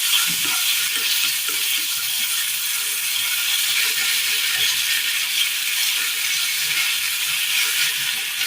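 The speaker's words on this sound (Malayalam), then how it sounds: "അടുപ്പത്തൊരു പാത്രം വെച്ച് കൊടുത്തതിന് ശേഷം അല്പം നല്ലെണ്ണ ഒഴിച്ചു കൊടുക്കാം. ഇതിലേക്ക് കൊത്തി അരിഞ്ഞു വെച്ചിരിക്കുന്ന തക്കാളി ഇട്ട് കൊടുക്കാം." Chopped tomatoes sizzle in sesame oil in a pan on a stove, a loud, continuous bright hiss with faint scrapes and bubbling underneath.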